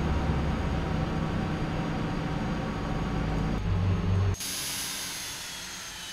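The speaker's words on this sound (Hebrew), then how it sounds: "בואו נכבה מנוע." A jet airliner engine in the FSX flight simulator game winds down. A steady, loud roar runs for about four seconds, then drops abruptly to a quieter, fading whine.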